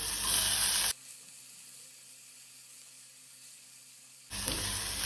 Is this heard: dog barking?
no